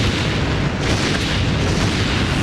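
A warship in Naval Ops: Commander shells a hilltop building: dense, sustained rumbling blasts fill the whole stretch loudly, with no talk over them.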